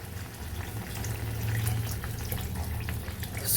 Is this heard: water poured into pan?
yes